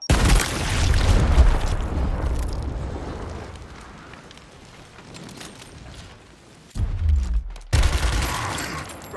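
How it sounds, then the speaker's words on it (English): A frag grenade goes off in Gears Tactics as a loud, close blast that decays into a rumbling, crackling tail, followed by a second burst of gunfire-like booms near the end. "Frag going out."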